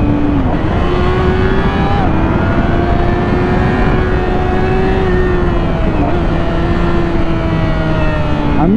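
A 2015 Yamaha R6 sport motorcycle engine revs hard and high. The loud, close whine climbs steadily, with brief dips where the rider shifts gear before it pulls up again.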